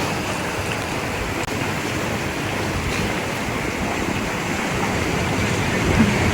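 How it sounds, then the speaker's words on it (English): Ocean waves crash against rocks near a lighthouse on the coast of Albion, Mauritius, a steady, broad roar of surf and spray that continues evenly with no voices. "It was mesmerizing to hear and see the waves up close."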